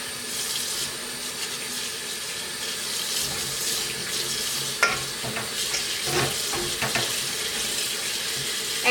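Hot water runs steadily from a tap to soak t-shirts before crinkle tie-dyeing, a broad splashing rush with a few clunks and handling sounds partway through, close by and with no talking.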